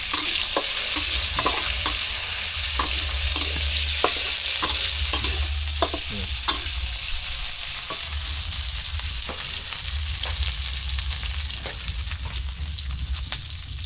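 Oil sizzles and fries steadily in a hot pan while a utensil scrapes and stirs in repeated strokes, with a low hum running underneath and no talking.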